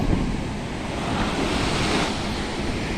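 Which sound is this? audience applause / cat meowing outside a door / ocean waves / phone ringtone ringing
ocean waves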